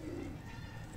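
A breeder pigeon gives a low, continuous coo, close and fairly quiet, with soft noise around it and no voices.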